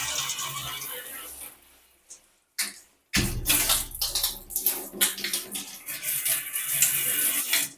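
Water gushes and splashes to rinse an aquarium pipe, a short pour, a brief pause, then a loud, close, sustained splashing flow.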